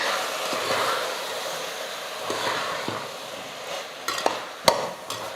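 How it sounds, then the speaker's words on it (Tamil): Mixed vegetables sizzle and fry in a pan while a spoon stirs them, a steady close hiss with soft scraping strokes and a few sharp clinks toward the end, with no talking. "எல்லா காயும் சேர்த்ததுக்கப்புறம் நல்லா கலந்து விட்டுடலாம்."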